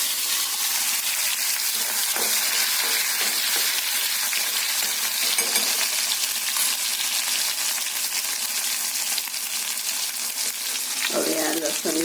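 Asafoetida and tomatoes hit hot oil in a pan for a Kathiyawadi potato curry, a loud steady sizzle and crackle running throughout, with a few light stirring clinks near the end.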